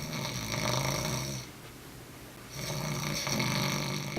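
A person snoring loudly and close, two long rasping snores separated by a quieter pause for breath, with no talking.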